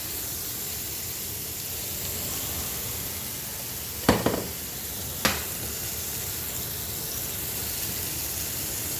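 A smashed burger patty sears on its second side with a loud, continuous close sizzle, and two sharp spatula taps or scrapes cut through midway.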